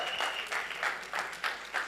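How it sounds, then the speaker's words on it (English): Scattered clapping at a Punjabi song launch event comes in a few distinct bursts, moderately quiet, as though only part of the audience joins in. "I think she deserves a big round of applause."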